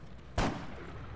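A single sharp gunshot in Arma 3 cracks out loud and close, standing out against a low steady background hum.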